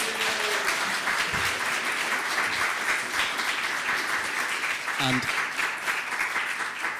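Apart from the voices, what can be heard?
audience applause at a meetup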